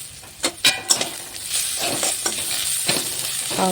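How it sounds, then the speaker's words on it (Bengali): Peanuts tipped into onions already fried in a pan with very little oil give a close, steady sizzle, broken by a few sharp spatula clinks and stirring scrapes, with no talking. "পেঁয়াজগুলি ভাজা হয়ে গেছে, তার মধ্যে আমি বাদামগুলি দিতেছি।"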